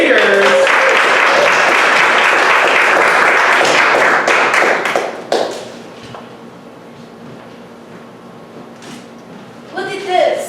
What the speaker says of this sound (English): please give a big round of applause for Popular Creators